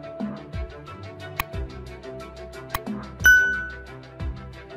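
Bright ding-style notification chimes from a Roblox Piggy animation ring out several times over a busy cartoon music bed, with sharp metallic pings standing out near the middle.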